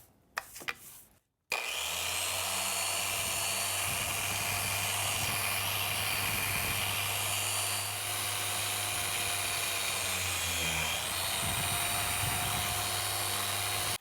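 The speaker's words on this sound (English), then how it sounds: "So I'll go ahead and put the 400 grit on and we'll go ahead and start sanding this." A power sander with 400 grit paper works over heavily oxidized boat gel coat, starting after a brief clatter, then whining in a steady, loud continuous drone with a constant hum and slight pitch wavering.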